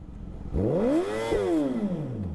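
A motorcycle engine revs at a park, rising sharply in pitch then falling away, one strong close rev swell lasting about two seconds with no talk.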